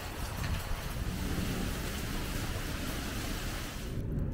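Steady, loud rushing wind from a sudden summer rainstorm, with a rough low rumble buffeting the microphone, continuous for several seconds before cutting off abruptly at the end.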